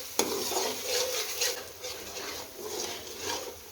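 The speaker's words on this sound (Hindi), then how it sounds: "इस पॉइंट पे हमने अदरक लहसुन पेस्ट जो है 1 खाने का चम्मच इसमें डाल देंगे और इसको भी अच्छी तरह से इसमें मिक्स करके भून लेना है।" Ginger garlic paste fries in a pan of masala for a village-style fish curry, with steady sizzling and a spoon stirring and scraping rhythmically throughout, close up and with no talking.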